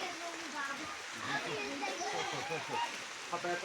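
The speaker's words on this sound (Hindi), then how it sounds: "बारिश काफ़ी पड़ रही है।" Heavy rain pours outside a madrasa, a continuous broad wash of splashing water with someone speaking over it throughout.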